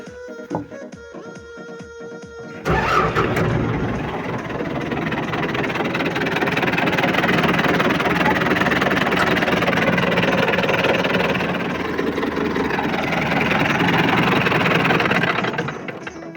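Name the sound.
tractor engine being started and idling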